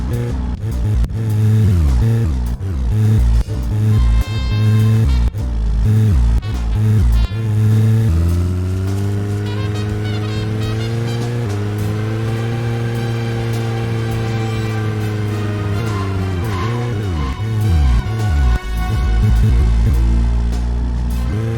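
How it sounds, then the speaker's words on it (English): Video game car engine revving up and down through gear shifts, a sustained droning motor with rising and falling pitch and some scraping skid bursts, loud and close, from Deadly Premonition. "Just a little car ASMR for you."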